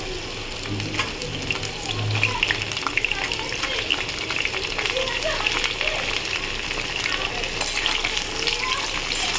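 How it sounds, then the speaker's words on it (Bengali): Sliced pointed gourd sizzles in hot oil in a pan alongside already-fried potatoes, a steady crackling fry with occasional stirring under a person talking. "এবার আমি এর সাথে পটলটাও ভেজে নেবো, পটলটা দিয়ে দিই।"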